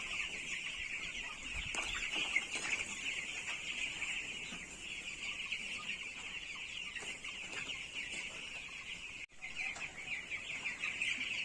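Chicks in a poultry farm on day 14 peeping in a constant high chorus, with occasional clucks and rustling from the flock throughout.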